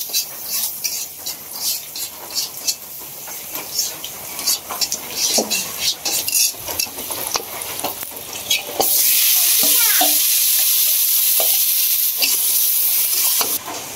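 Food sizzles and fries in a pan while being stirred, with steady scraping and crackling on a veranda as rain falls outside; the sizzle swells louder and denser for the last few seconds.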